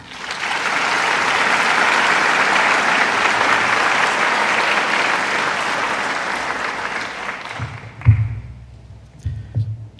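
An audience applauds to welcome Tony Brennan, Deputy Commissioner of the British High Commission, at a university graduation ceremony, a loud sustained wash of clapping that fades out, followed by a few thumps.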